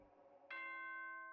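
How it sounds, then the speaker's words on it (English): Danganronpa 2 school broadcast chime rings out suddenly after a faint hum, a bright bell tone that holds and slowly fades over about a second. "Ding dong ding bong."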